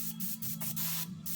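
An airbrush running at about 60 psi sprays paint onto a Harley fender in a few short, soft hissing bursts with brief gaps between them.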